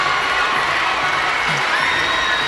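Basketball fans in a packed arena at a Tennessee high school boys' Class 3A quarterfinal between Blackman and Memphis East roar and cheer continuously, a steady loud crowd wash with scattered shouts.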